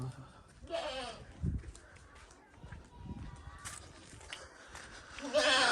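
Several short, wavering goat kid bleats come and go at moderate distance, mixed with murmuring voices and light rustling in the background.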